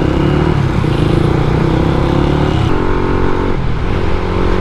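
Honda RFS150i motorcycle engine revving steadily and loudly close by, a continuous throaty idle with pitch rising and falling through a couple of throttle blips.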